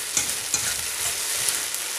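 Steady sizzling of Kaiserschmarrn batter frying in a hot pan, with soft scraping strokes of a fork stirring and breaking it up now and then.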